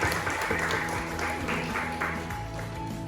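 Audience at a teachers' talk show and showcase event in Indonesia breaks into loud, sustained applause, a dense wash of many hands clapping in a hall with a faint background tone.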